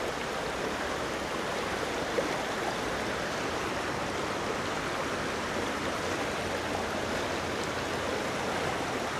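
A mountain trout stream in Gatlinburg rushes over rocks in a steady, full hiss of flowing water, close and constant throughout with no voices.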